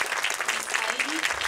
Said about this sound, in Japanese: 皆さん大きな拍手でお迎えくださいませ。